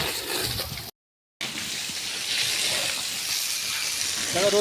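Water from a tap or shower runs steadily to wet hair before shampooing, a continuous hissing gush that fills the clip after a brief dropout near the start.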